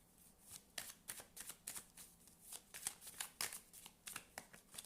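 Tarot cards shuffled and cut by hand, a quick run of soft, riffling flutters and taps repeating close up, fairly quiet, with no talking.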